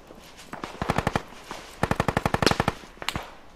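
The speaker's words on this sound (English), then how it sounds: "They're shooting at us." Automatic gunfire in the military shooter game Squad, two rapid bursts of sharp shots with a few single shots in between, loud and fairly close.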